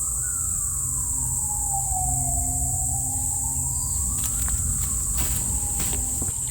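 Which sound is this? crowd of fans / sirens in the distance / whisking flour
sirens in the distance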